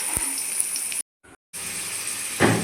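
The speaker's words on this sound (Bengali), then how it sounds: "অল্প অল্প করে ভেজে নিচ্ছি।" Potatoes frying in oil in a pan, cooked in small batches for a festival khichuri: a steady hiss and sizzle with a brief cut to near silence, then the sizzle resumes and swells at the end.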